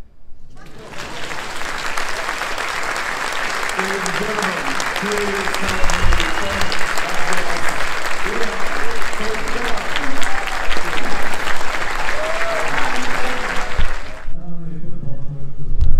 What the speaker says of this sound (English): Now right there you can clap